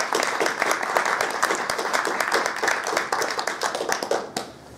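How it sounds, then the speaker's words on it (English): An audience at a Python conference talk applauds steadily throughout, dense overlapping clapping with no pause, fairly close and loud. "So a big round of applause please for Joshua."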